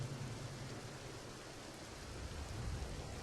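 Steady rain falls in a continuous soft hiss with a low rumble beneath, even and unbroken throughout, with no voices.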